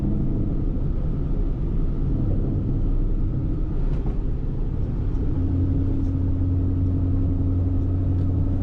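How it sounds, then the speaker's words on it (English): A 1000+ horsepower Mustang GT rumbles from inside the cabin while driving and shifting firmly, a loud, steady low engine drone that changes tone partway through. "It's shifting nice and firm."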